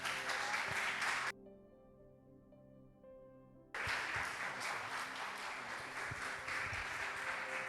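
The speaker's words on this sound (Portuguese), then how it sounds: "as palmas para você." A church congregation applauds, steady clapping heard across the room, which cuts out abruptly for a couple of seconds and then resumes at the same level.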